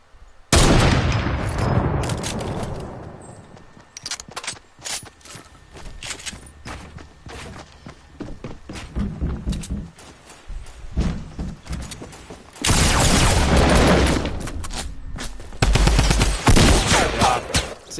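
Gunfire in Fortnite Battle Royale, with loud close bursts of rapid shots, scattered single cracks and footsteps between them, then more heavy volleys near the end.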